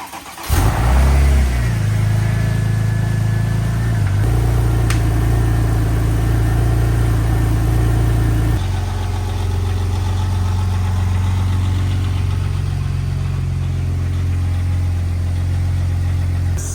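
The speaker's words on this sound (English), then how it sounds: "I'm gonna crank it up, let it warm up" A neglected Porsche 911 Turbo cranks and fires, gives a sharp rev, then settles into a steady, loud idle that shifts slightly in pitch as it warms up, with no talking.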